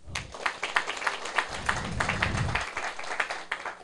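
Scattered clapping from an audience at a Taiwan Civil Government senior administrative councillor class session, a steady patter of hand claps with a low murmur of voices running beneath it.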